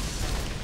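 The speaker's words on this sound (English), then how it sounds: "The claptrap exploded when I killed it." A Claptrap robot blowing up in the shooter Borderlands: a brief, dense burst of explosive noise that fills the short moment with a rumbling, crackling roar.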